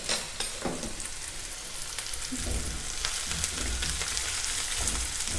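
Onions sizzle steadily in oil in a pan while cooking for mutton sambar, a continuous dense frying hiss with a few faint stirring scrapes and no voices.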